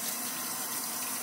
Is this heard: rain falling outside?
no